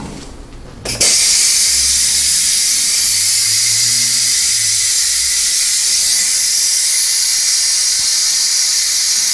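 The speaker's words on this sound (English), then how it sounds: "Let's release the pressure" A pressure cooker valve releases its steam after cooking spaghetti and BBQ brisket balls. A loud, steady hiss bursts on after a brief quiet moment, then holds unbroken and close to the end.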